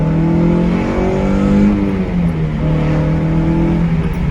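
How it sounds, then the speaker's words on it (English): A 2001 Toyota MR2 with an MWR intake and other modifications revs hard during a gear pull, its engine note climbing steadily in pitch, dropping briefly at a shift, then rising again, loud and close with no talking. "I'll do just one more pull."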